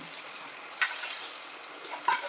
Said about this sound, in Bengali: এবার এই তৈরি করা ডালের মধ্যে এই ফোড়নটা দিয়ে দেবো